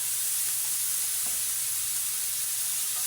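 Beef pieces frying in a little oil for black pepper beef, giving a steady, close sizzling hiss that runs without pause and has no talk over it.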